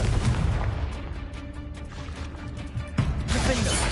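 Confringo fire-blast spell explosions in the Hogwarts Legacy video game, a dense run of booming blasts and crackling bursts with one sharper hit near the end, loud and close.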